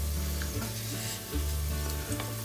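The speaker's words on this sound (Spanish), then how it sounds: "A medida que el ajo se va dorando, lo voy retirando." Garlic fries in oil in a pan with a constant crackling sizzle and spitting pops. A low, steady hum runs beneath it, punctuated by brief bursts.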